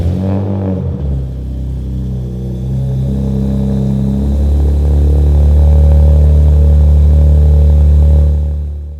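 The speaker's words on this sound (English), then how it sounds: "let's get this car off the lift and drive her out" Car engine idling and revving as the car is driven off a shop lift after a thermostatic oil cooler installation; a loud, steady low rumble that builds and holds before easing off.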